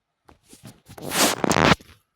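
Scissors cutting fabric for a sleeveless button-down shirt, a few soft snips followed by a longer, louder scraping cut close by with no talking.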